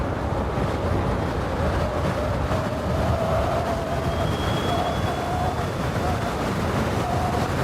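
A Sondors Metacycle electric motorcycle runs at full throttle in sport mode, heard as a steady, loud roar of wind rush and road noise with a faint rising motor whine.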